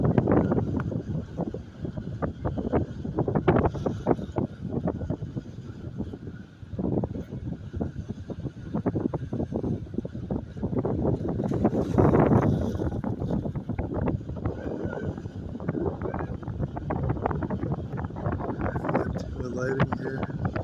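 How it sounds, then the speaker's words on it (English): Wind buffets an outdoor microphone in a constant low, rumbling roar that swells and gusts throughout and dominates the sound, with a voice occasionally mixed in. "Probably get a lot of sound of the wind here."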